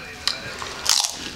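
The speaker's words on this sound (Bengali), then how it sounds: "আমি ড্রাই ফুচকা খাবো।" Dry fuchka, the crisp hollow puri shells eaten without water, crunch in two quick close bites while people talk nearby.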